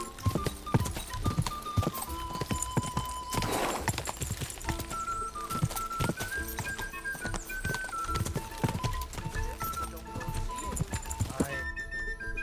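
Horse hooves clip-clopping in the medieval video game Kingdom Come Deliverance 2, a steady rhythmic patter running throughout amid game music and ambient sound, with occasional other effects.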